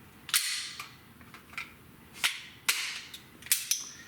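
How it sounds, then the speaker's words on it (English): Several sharp, dry metallic clicks and snaps from dry fire practice with an empty gun and dry fire magazine, at irregular intervals, close and crisp, with quiet handling noise in between. "I'll demo with this gun, but it is a dry fire magazine"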